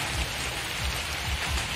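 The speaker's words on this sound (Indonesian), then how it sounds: "hujan telah mengguyur" Steady rain pours over a papaya garden, a dense close hiss that stays even in loudness throughout, with no voices.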